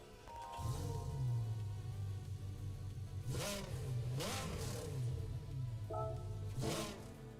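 An Audi engine in Gran Turismo 7 idles steadily, then revs up sharply three times in quick bursts before settling back; close and loud, with no talking.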